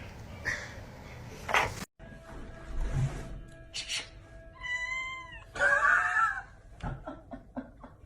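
A domestic cat meows several times, short rising and falling calls sounding close and fairly loud among light household noise, with no talking.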